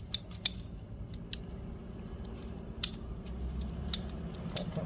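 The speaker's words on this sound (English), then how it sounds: "So you grab your PVC cutter, open it up, and I've already marked mine at 5 feet." A PVC pipe cutter on PVC pipe gives sharp, sparse clicks and snaps as its ratchet works, close and fairly quiet over a low steady hum, with no talk.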